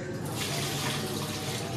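A kitchen tap runs steadily as potatoes are washed under it, a continuous close hiss of flowing water with no break.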